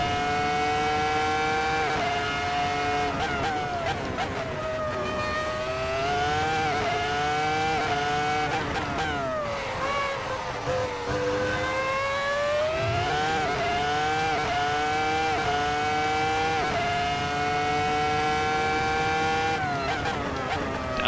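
Ferrari F2004 Formula One car in a racing video game, its high-pitched engine screaming continuously through the gears, revs climbing and dropping with each shift and long sustained wails, loud and close throughout.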